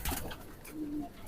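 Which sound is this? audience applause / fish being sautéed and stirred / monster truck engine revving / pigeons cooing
pigeons cooing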